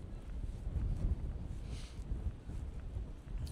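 Wind blowing outdoors, gusting against the microphone in uneven low rumbles that rise and fall over a few seconds, with no speech.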